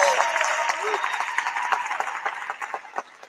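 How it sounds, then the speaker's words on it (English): Audience applause for a women's basketball coach at a university head-coach announcement, clapping that starts fuller under a fading voice and thins into scattered individual claps. "give her a round of applause"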